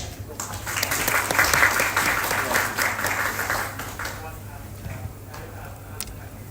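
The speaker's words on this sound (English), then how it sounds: "please give another big applause for David to the stage" Audience applause welcoming a speaker to the stage at an AI technology event, fairly dense clapping that swells then thins out into scattered claps, with a low steady hum underneath.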